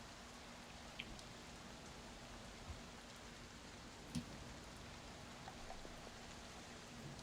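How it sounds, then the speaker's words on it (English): Steady rain falling during a storm as it begins to ease, a soft continuous hiss of drops with a few faint isolated taps and no voices. "The rain starts to settle down a little bit."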